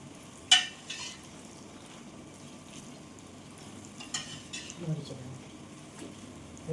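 Red chillies fry in oil with a faint, steady sizzle, broken by a sharp metal clink of a spoon against the pan and a few quieter stirring scrapes.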